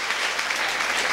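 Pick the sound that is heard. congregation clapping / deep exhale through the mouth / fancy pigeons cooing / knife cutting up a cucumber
congregation clapping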